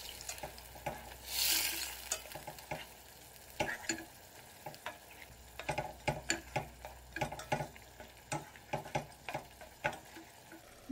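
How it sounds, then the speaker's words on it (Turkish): Eggplant menemen of eggs and vegetables sizzles in a pan while a spoon stirs it. Close scraping and clicking strokes come in an irregular rhythm over steady frying, with no talking. "Karıştıralım."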